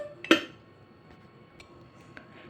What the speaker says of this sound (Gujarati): હવે આપણે પ્રેશર કુકરનું ઢાંકણું બંધ કરી નાખશું।